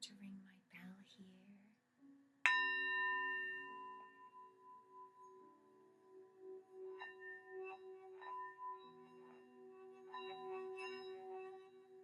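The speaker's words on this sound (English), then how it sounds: "I'm going to ring my bell here." A meditation bell struck once, its clear ringing tone sustaining and slowly decaying over several seconds, preceded by a faint whispered voice in a quiet room.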